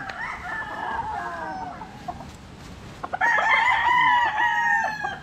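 Young rooster stags on a farm crow loudly in two drawn-out calls separated by a brief gap, with soft clucking and other fowl faintly around them, close by and without talk.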